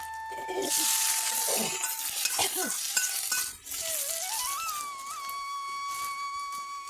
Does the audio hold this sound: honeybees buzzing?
no